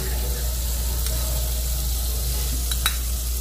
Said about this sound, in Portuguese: Aqui vamos começar botando a manteiga.